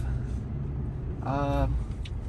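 A 2013 Toyota Tacoma truck pulls away, its steady low engine rumble filling the cabin from start to finish, with a brief burst of voice partway through.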